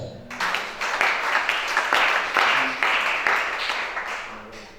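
Worshippers in a church congregation clap in a steady, rhythmic burst with pulsing accents, fairly close and full, tapering slightly at the close.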